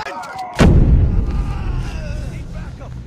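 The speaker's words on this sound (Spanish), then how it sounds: "Tiros lejanos, 6 tiros lejanos." A single heavy gunshot booms in a shooter video game, a sharp blast followed by a long rolling echo that fades over a few seconds, with faint game sounds before it.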